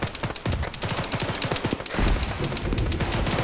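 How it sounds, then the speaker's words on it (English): Grenade machine gun fire in the military shooter ArmA 3, a rapid burst of heavy thumping reports followed by a louder, denser barrage with explosions rolling together, no voices. "We got something shooting a GMG at us."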